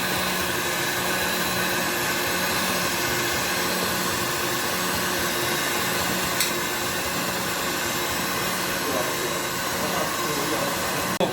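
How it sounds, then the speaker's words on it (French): A stand mixer whips egg whites into meringue as hot sugar syrup is poured in, giving a steady, loud, continuous whirring drone with airy hiss that barely changes over the whole stretch. "On vient de verser le sirop, les blancs ont doublé, la meringue est en train de tourner."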